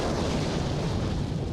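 A knocked-out tank exploding in the WWII desert fighting at Alamein, a dense sustained roaring blast that fills the short moment, loud and close with no voices.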